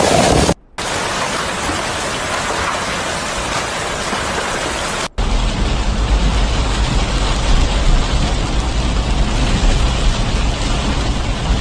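Heavy storm rain in eastern Bavaria, Germany, pouring as a loud, steady broadband roar that cuts out briefly twice and then returns even denser and harsher.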